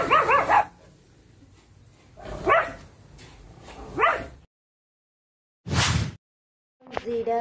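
Several sharp dog barks in separate bursts with quiet gaps between them, fairly close and loud, with no talking.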